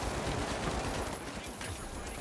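A brief, dense burst of rapid gunfire in the arena shooter THE FINALS, overlapping shots from an SMG-heavy fight blending into a steady roar with a voice talking over it.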